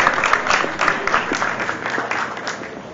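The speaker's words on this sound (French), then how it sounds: "on applaudit les organisateurs de Tapis Rouge" Audience applause at a Tapis Rouge event rings out for the organisers: a thick, continuous wash of many hands clapping, steady and fairly loud, without pauses.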